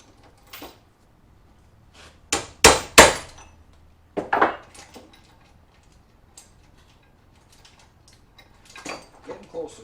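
A chisel struck with a hammer while working on a trap, with several sharp metallic knocks in a quick cluster followed by scattered lighter taps, close and loud against a quiet background.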